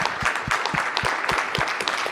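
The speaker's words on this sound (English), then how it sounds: "Let's give Michael a round of applause." Audience applauding at the close of an education conference session, a dense steady wash of many hands clapping for about two seconds with no voices over it.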